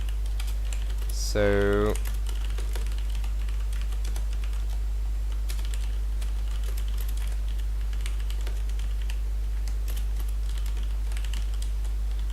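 Code being typed on a computer keyboard: a steady, quick run of soft key clicks continues for the whole stretch over a constant low hum, close up, with a short spoken word near the start.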